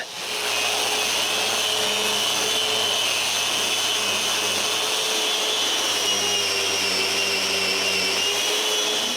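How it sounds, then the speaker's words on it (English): Power sander working the inside of a glued bamboo-bicycle workbench piece, a loud continuous whirring drone that holds steady throughout with a faint shifting undertone. "the glue of the sides is dry and I can sand the inside"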